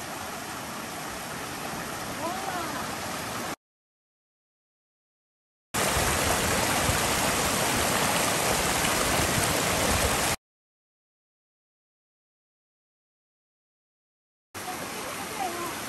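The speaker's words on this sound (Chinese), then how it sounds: "哇，美惠，你看你前面这一段的大屯溪水好美哦。" Datun Creek in Taiwan's hills, a clear mountain stream, gives a steady rushing wash of flowing water that cuts in and out between stretches of silence.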